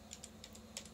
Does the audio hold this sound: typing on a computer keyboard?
yes